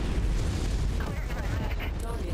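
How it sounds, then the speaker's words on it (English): Ammo explosion on an SRM-10 Commando mech in MechWarrior 5, a loud continuous booming eruption with heavy low rumble lasting throughout, sustained and dense rather than a single crack. "now we got an ammo explosion on him"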